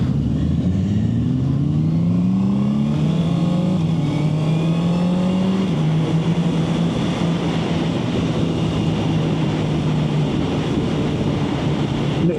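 A Honda CB650R motorcycle engine braking on the road, the engine note sliding steadily down in pitch as revs fall, close and loud under strong wind rush, with no talking.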